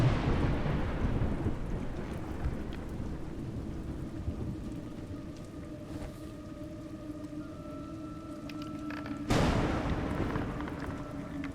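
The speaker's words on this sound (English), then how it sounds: "It's raining." Steady rain patters under a deep rumble of thunder, with a sharper crack of thunder near the end, fairly faint overall, in the video game A Juggler's Tale.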